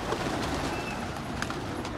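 Pigeons, a newly released flock, coo and call over a steady outdoor wash with faint flutter, no clear wingbeat bursts standing out through the two seconds.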